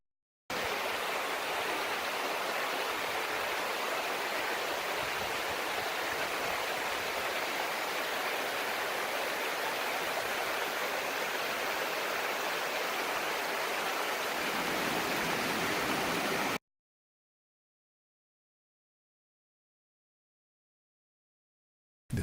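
The Mundo river flows through riverside forest as a steady, broadband rushing of water, close and even for about sixteen seconds before cutting off abruptly into silence.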